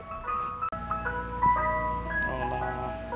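An ice cream truck plays its chiming jingle melody from a short distance outdoors, the tune clear over a low traffic rumble.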